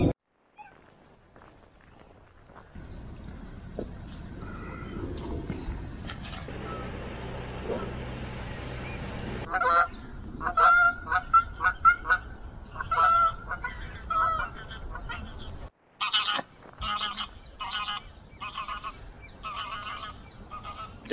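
Geese honk repeatedly near a riverside camp by London bridges, a series of loud, sharp, bursty calls after a stretch of low background hum.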